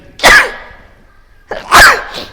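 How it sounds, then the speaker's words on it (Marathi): Two sharp sneezes about a second and a half apart, loud and close, each a sudden burst followed by a brief trailing exhale. "थांब जरा मला शिंकी यायला लागली"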